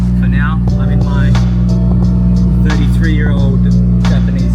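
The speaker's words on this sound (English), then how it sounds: "33-year-old Japanese K truck." Old 33-year-old Japanese K truck engine droning steadily while driving, a loud constant low hum with someone talking over it throughout.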